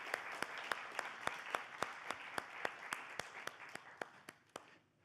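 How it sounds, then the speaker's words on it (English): An audience claps for World War II veterans at a public event: an even, steady run of rhythmic claps, faint and somewhat distant, tapering off toward the end. "let's give a round of applause and recognition to those who served in World War II"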